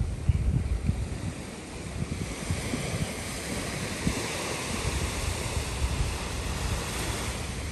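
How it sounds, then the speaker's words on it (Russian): Calm ocean waves wash in a steady, soft broadband rush with light wind noise on the microphone, continuous and moderately distant with no talking. "Океан спокойный такой."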